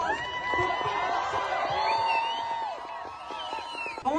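A rally crowd cheers, whoops and shouts with sustained, overlapping voices for several seconds, staying steady before easing off near the end.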